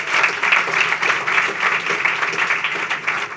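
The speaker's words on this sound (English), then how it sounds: "let's have a round of applause for all of you in attendance here today" Applause at a philanthropy celebration evening, the audience clapping for themselves: a lively, fairly close round of many hands with pulsing rhythm, steady throughout with no talk over it.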